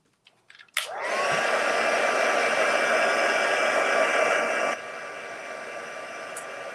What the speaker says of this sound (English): Okay, heat set, because I've got a bit of a big blob there.